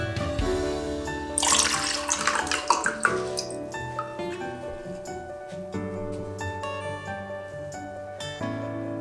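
Water from a prototype plant watering device pours and splashes out briefly, then trickles and drips, with a steady tonal hum running underneath throughout.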